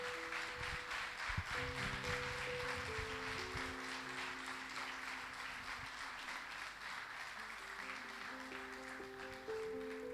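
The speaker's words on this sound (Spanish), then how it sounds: "¿Qué te parece si le damos un aplauso al Señor?" A church congregation applauds during a Spanish-language sermon by Pastor Marcos Quevedo, a soft continuous patter of many hands lasting several seconds while sustained organ or keyboard chords play underneath.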